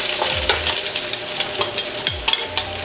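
Food sautéing in a pan for nilaga, a steady close sizzle broken by stirring scrapes and clinks as salt goes in, with no one talking.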